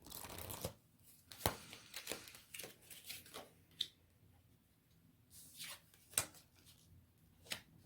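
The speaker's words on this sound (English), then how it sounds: "So let's pull a few cards" Tarot cards being shuffled by hand, soft close riffles and flicks that come in uneven bursts, with quiet pauses between them.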